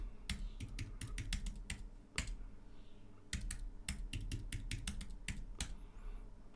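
Password being typed on a computer keyboard: bursts of quick, close keystrokes clatter in uneven runs, with short pauses between groups and a steady low hum underneath.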